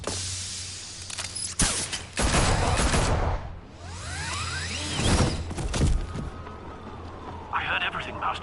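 Henchmen fire guns at Batman in a video game: loud bursts of rapid gunfire and whooshing impacts, mixed with game voices and effects.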